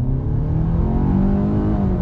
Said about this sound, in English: let's do some on throttle acceleration from a dead stop with sport mode on.